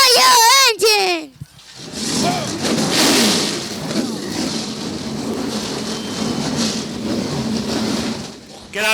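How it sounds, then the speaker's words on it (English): Race car engines fire up and roar at a dirt raceway, a loud sustained rumble from several cars heard at a distance after a brief voice at the start. "Driver, start your engine!"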